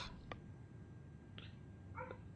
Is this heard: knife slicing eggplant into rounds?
no